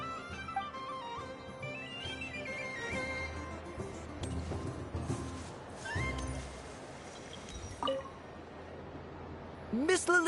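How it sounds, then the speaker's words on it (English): Kitten meowing in a video game, several short, high mews scattered through the clip over soft background music, with a louder cry near the end. "A kitten's been following you all this time."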